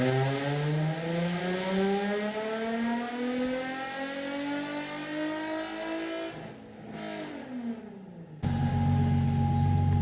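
A Nissan 350Z drift car on a dyno, running a 35-shot of nitrous, revs hard in one long climbing pull, its harmonics rising steadily before the throttle lifts and the engine drops back to a lower drone.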